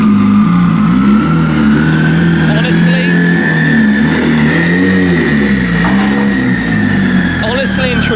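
A car engine with a flame-spitting wastegate revs hard up close, loud and raw, its pitch rising and falling in repeated sweeps with chattering bursts between revs.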